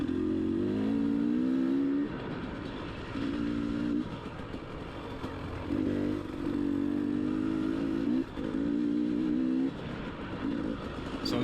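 Enduro dirt bike engine riding a trail with other bikes following, a loud close buzzing drone that rises and falls in repeated revving bursts, alone without talk.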